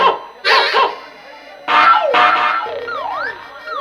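Several loud, sharp dog barks in quick bursts, close by, followed by a wavering siren-like wail.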